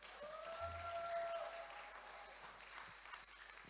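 A church congregation applauds at a Sunday service, a dense, steady wash of clapping from many hands filling the room, with faint voices and a brief tone mixed in.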